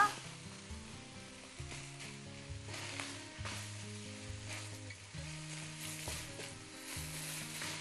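Chopped cabbage and sujuk sizzle steadily in a pan while being stirred, a continuous close frying hiss with occasional utensil scrapes under faint background music.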